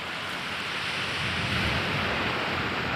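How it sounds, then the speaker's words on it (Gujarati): On the sea shore at Ghoghla beach in Diu, surf washes in a steady, even broadband hiss mixed with wind, with no voices. "આ છે દીવનો દરિયા કિનારો, ઘોઘલા બીચ છે."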